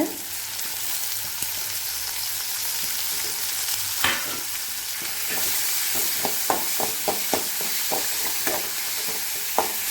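Snake gourd, tomato, garlic and tamarind simmering in a pan on low heat for a thuvaiyal, a steady sizzle with scattered sharp clicks of stirring toward the end, fairly close and without talk.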